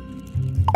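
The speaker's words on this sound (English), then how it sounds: "Pop." Bubbles pop in a quick cluster of three short, wet plops near the end, close and fairly loud after a brief low gurgle, in a playful ASMR setting.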